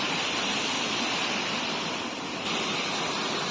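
Heavy water rushing from an opened dam, a dense, steady roar of torrent close by that holds even and loud throughout, with no voices.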